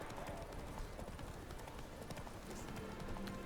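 Horse hooves clip-clop at a running pace in The Witcher 3, a quick rhythmic patter of steps under a soft background bed, with a voice heard faintly.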